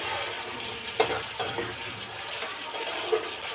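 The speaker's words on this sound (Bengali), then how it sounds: "মশলা ধোয়া জলটা দিয়ে দেবো" Water used to rinse spices is poured into a pan of chicken cooking in spices for coconut chicken, giving a steady close hiss and gush of liquid meeting hot food, with a few clinks over a constant sizzle.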